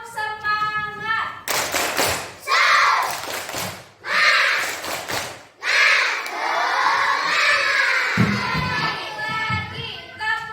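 A class of schoolchildren performs a rhythmic 'tepuk semangat' clapping chant, clapping in unison in short bursts and shouting together, with a voice leading between rounds; loud and close, like a classroom.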